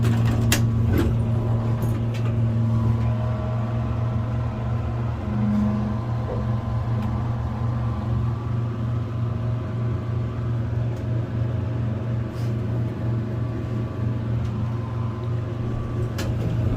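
A Tedric hydraulic elevator running, a steady low motor hum and drone with faint mechanical rattles and clicks throughout, continuous and fairly loud in an enclosed car, with no talking.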